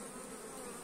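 Honeybees buzz at the entrance of a hive fitted with a plastic pollen-trap base, a steady, continuous drone heard close up with no talking.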